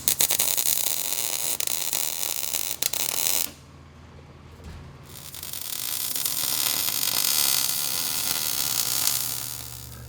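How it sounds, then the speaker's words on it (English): Steady, loud crackling buzz of welding brackets onto a car axle, with a short pause partway through before the harsh sizzle resumes; no talking. "So I'm just going to go ahead and weld the brackets to the axle right now."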